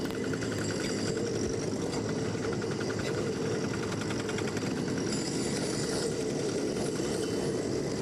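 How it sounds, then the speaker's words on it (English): Racing kart engines at a Club100 Senior Championship round at Buckmore Park give a steady, loud, buzzing roar that runs without a break for the whole stretch, with no talk over it. "And the engine revs are about to go up."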